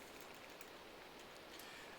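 Rain falling in Minecraft, a faint, steady hiss of soft pattering drops, with no talking.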